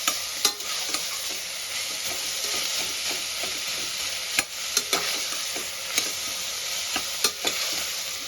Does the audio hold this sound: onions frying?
yes